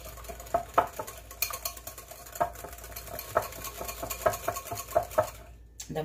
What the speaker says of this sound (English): I'm just going to stir that